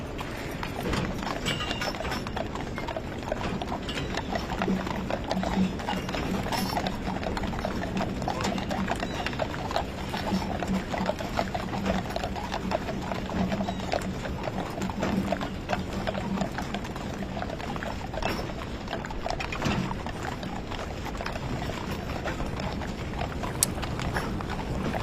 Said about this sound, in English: you're seeing the horse-drawn caisson there carrying the remains of President Jimmy Carter